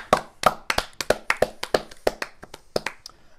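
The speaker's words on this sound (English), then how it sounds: "I think they all deserve a round of applause." Sparse applause on a TV panel show, about a dozen distinct close claps in an uneven rhythm from a few people, gradually thinning and fading out.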